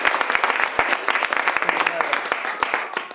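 Guests at a wedding reception clap during a speech, a burst of close, fairly loud individual claps from a modest crowd, with voices heard through the applause.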